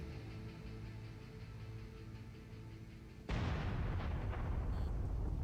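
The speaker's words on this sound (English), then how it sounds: "I'll drop a missile on him" A missile explosion in MechWarrior 5 erupts suddenly out of a steady mechanical hum. A loud, broad blast follows and keeps rumbling to the end.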